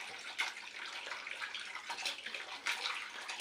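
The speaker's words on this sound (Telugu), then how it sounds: "ఇప్పుడు ఉప్పు వేసుకుని వాటర్ నింపుకోవాలి" Water runs steadily into a container holding salted potatoes, a soft continuous splashing rush with small surges, close and fairly quiet, no voices.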